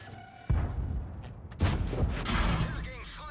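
Tank cannon shots in World of Tanks give two sharp booming reports about a second apart, each followed by a rumbling tail, heard close and loud.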